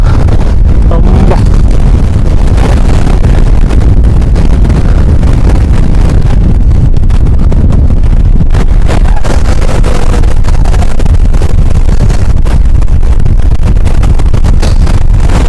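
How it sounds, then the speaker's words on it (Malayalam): A strong, unbroken wind roars across the microphone on the summit of Agasthyarkoodam mountain, loud and buffeting throughout, with no speech heard. "അതിഭയങ്കരമായ കാറ്റാണ് പിടിച്ചു നിൽക്കാൻ തന്നെ പറ്റുന്നില്ല"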